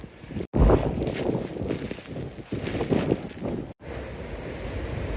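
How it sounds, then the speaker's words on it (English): Strong storm wind on an exposed mountaintop buffets the microphone in heavy roaring gusts, loud and close, with brief dropouts between blasts. "it sounds like a jet engine or something's going off over there. Some strong wind."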